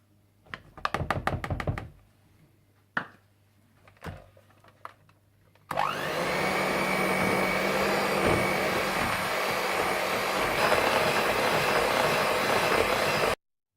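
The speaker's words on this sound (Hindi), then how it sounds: "क्रीम चीज और बटर को अच्छी तरह बीट करने के बाद आप इसमें वनीला एसेंस, लेमन जेस्ट और आइसिंग शुगर डालकर अच्छी तरह से बीट कर लें।" An electric mixer beats cream cheese, butter, vanilla essence, lemon zest and icing sugar into lemon buttercream frosting. A few sharp knocks come first, then a loud, steady whirring drone runs on without a break.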